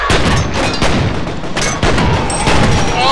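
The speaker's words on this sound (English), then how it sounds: "Explosion" Loud, dense in-game explosion and gunfire blasts from the shooter game F.E.A.R., a continuous roar of booms and bursts with sharp repeated impacts throughout.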